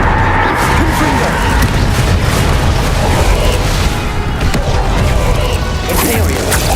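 A Confringo blasting spell goes off in the video game Hogwarts Legacy, a loud booming burst amid continuous battle noise with crashing impacts, mixed under an energetic game soundtrack and voiced incantations.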